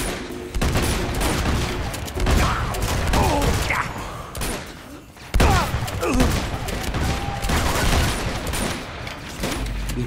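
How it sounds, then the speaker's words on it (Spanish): Dense, continuous shotgun fire in Uncharted 2 with repeated loud blasts and mechanical clatter, nearly unbroken for the whole stretch, with a brief dip midway. "Disparo nomás la escopeta"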